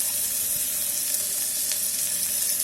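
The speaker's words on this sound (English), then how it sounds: "Fry this for another 1 minute." Soyabean chilli fries in an electric kettle with a steady, loud sizzle that holds evenly throughout, close up and with no voices.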